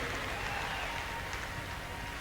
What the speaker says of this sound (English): Let's give him a nice round of applause right here